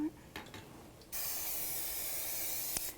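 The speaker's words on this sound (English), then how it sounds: "And we're just spraying a little bit of cooking spray." Cooking spray hisses from an aerosol can onto raw chicken drumsticks in a kitchen, one long steady burst after a moment of quiet handling noise.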